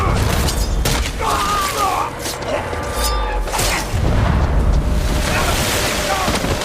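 A loud, sustained explosion from a film scene roars for several seconds with deep booming rumble and crackling bursts, followed by a second heavy blast partway through.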